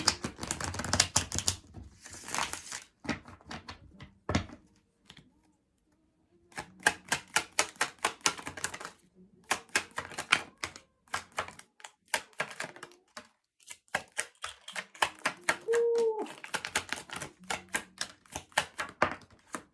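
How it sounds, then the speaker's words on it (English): Repeated bursts of a deck of cards being shuffled, rapid clicking riffles up close, with short pauses between rounds. "let's go ahead and give this a shuffle"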